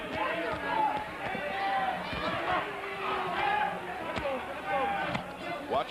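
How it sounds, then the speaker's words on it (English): Boxing crowd at the 1992 WBC super featherweight title rematch between Azumah Nelson and Jeff Fenech, a loud continuous roar of cheering and shouting that swells and dips, with a commentator talking over it. "The crowd trying to urge him on."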